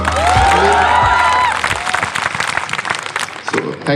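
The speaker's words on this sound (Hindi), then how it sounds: "एक बार रजत के लिए तालियां मार दें।" Audience applause and cheering at a stand-up comedy show in Chandigarh, loud and dense at first, then thinning out, with a host's voice and a few whoops over the clapping.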